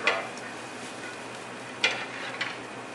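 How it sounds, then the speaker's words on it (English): Food sautéing in a pan while constantly stirred, stir-fry style: a steady soft sizzle with a few sharp clicks and scrapes from the utensil against the pan. "One other point to make of saute is to constantly keep it moving."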